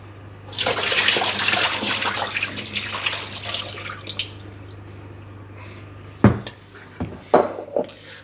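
Cut potatoes being rinsed under a running kitchen tap, with a steady rush of water for several seconds that fades out, followed by a few sharp knocks and clatters of the bowl or dish.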